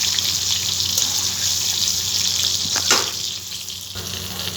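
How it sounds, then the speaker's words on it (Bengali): Pieces of pointed gourd (potol) frying in hot oil, a steady close sizzle with a short clatter of stirring partway through, no talk. "পটলগুলো আমি একটু লাল লাল করে ভাজবো"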